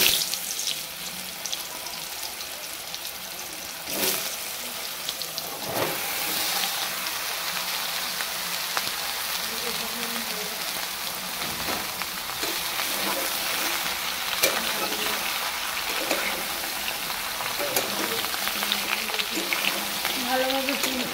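Ridge gourd and potato frying in oil, being mixed in, make a dense, continuous sizzle with scattered stirring scrapes, steady and fairly loud for the whole stretch.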